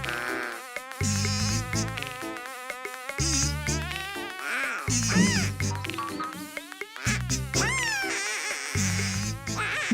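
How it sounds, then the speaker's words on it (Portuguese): A cartoon bee buzzes in quick, darting swoops of rising and falling pitch, with short squeaky character vocalizations and a quacking duck mixed in. "É só uma abelha."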